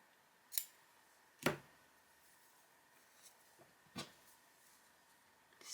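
Scissors snip yarn during a crochet project: a few short, sharp, quiet cuts spaced about a second or two apart against a faint background hush.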